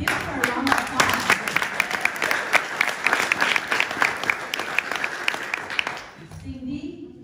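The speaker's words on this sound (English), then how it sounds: "And give her a round of applause." An indoor audience at a leadership foundation chapter meeting in Seattle claps for about six seconds, dense and steady, before it fades and a voice begins speaking.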